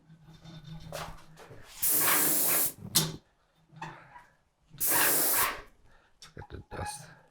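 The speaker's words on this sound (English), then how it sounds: "So I got my sprayer ready to go" An airless paint sprayer lays coating onto wood cabinet doors in two loud, steady hissing bursts of about a second each, with quieter handling noises and brief talk in the gaps between them.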